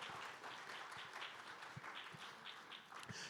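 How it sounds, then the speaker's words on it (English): An audience at a technology conference claps for a speaker being introduced on stage, a sustained round of applause with a few sharper, closer claps standing out from the crowd. "Let's give her a round of applause"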